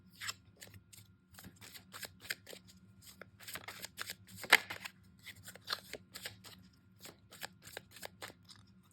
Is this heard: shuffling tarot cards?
yes